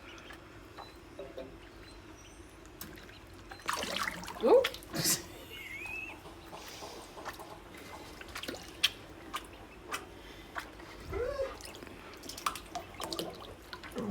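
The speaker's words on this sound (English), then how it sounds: "we've put them in the sink for their first bath" Young ducklings, two or three days old, splash and paddle in a kitchen sink of water during their first bath, with soft intermittent drips and small splashes, close up, under brief exclamations from a person.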